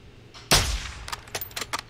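A single sharp gunshot in Call of Duty Modern Warfare 2, a loud close crack with a low boom, followed by fainter clicks and rattles of gear.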